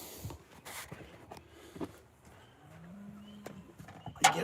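Farm livestock calling out for feed on a rainy morning, with a few scattered cries and thuds of nearby movement, a louder sharp burst near the end.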